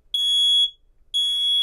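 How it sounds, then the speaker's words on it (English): A 2GIG SMKT3-345 smoke and heat detector sounds its alarm in two loud, piercing electronic beeps separated by a short gap, close and alone. "both the sensor and the alarm panel will go off in a fire alarm mode"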